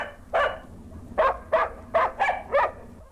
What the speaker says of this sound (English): more playgrounds and more parks where more dogs bark more barks